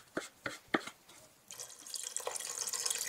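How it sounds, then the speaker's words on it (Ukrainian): Cold water running from a tap into a pot of sliced sulphur shelf mushrooms in a home kitchen, preceded by a few soft knocks and clatters, then a steady close splashing pour that continues to the end. "Заливаємо гриби холодною водою і ставимо варитися."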